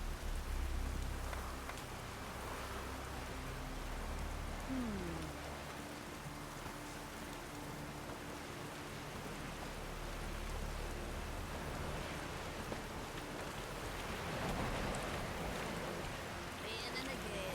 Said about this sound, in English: Oh, raining again.